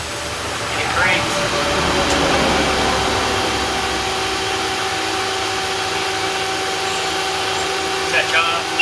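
Milling machine running a carbide cutter at fairly high speed, a loud, steady whirring hum with a constant tone throughout, with a voice heard over it.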